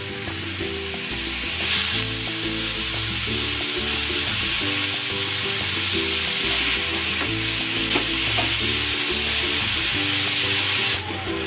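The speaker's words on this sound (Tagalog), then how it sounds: "I-sear muna natin itong ating pork belly." Pork belly sears in a little cooking oil, a loud, steady sizzle and crackle throughout with occasional stirring and scraping in the pan.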